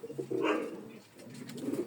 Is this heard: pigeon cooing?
yes